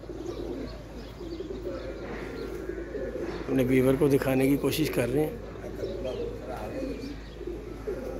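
Pigeons cooing outdoors, a pair sitting outside in the sun after being let out for the first time in a year, with soft repeated coos and chirps under steady nearby talking in Hindi.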